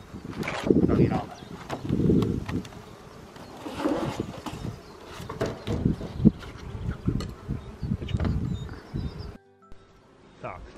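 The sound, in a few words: honeybees buzzing in an open hive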